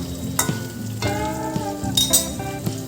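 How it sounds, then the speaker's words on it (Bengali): Pointed gourd and ash gourd slices fry in a pan with a busy sizzle, broken by a few metal clinks and stirring scrapes over a short stretch, no voices. "এখানে পটল আর এই যে চাল কুমড় ভাজা"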